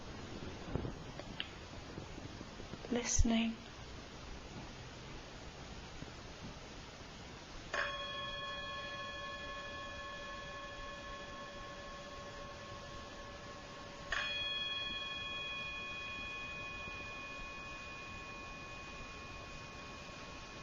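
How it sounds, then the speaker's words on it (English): Two meditation bell strikes ring out several seconds apart, each a clear sustained tone slowly fading, at the close of a guided body scan practice; a soft voice speaks briefly before the first. "The bell will sound now."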